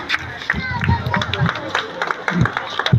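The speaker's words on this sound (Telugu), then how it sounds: "రేవతి గారు క్లాప్స్ కొట్టండి అమ్మా అందరూ" Audience clapping at a prize-giving ceremony for winners, a rough burst of scattered hand claps close by, mixed with someone speaking over the crowd's murmur.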